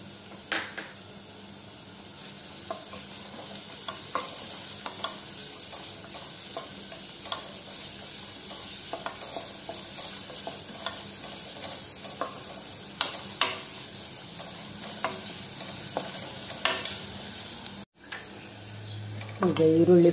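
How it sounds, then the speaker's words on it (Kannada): Onions fry in a pan for a challe kai pallya, an even crackling sizzle punctuated by repeated spatula scrapes and taps for about twenty seconds, close and steady. "ಈಗ ಈರುಳ್ಳಿ ಫ್ರೈ ಆಗಿದೆ"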